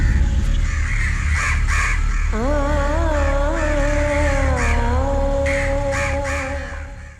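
Crows caw repeatedly, harsh calls overlapping at moderate distance over a steady low rumble of traffic that fades near the end.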